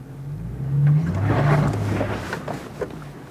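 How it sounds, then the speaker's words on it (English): Four-wheel drive vehicle in low range climbing a rock step off-road, a short throttle blip rising to a loud low engine rev that eases back off, with crunching over rock. "Notice that was just a squeeze of the throttle for that rapid little acceleration"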